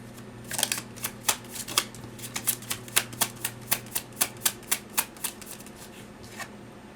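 Tarot cards are shuffled and drawn by hand, giving a steady run of crisp, close flicks and snaps at an even pace with a faint hum underneath.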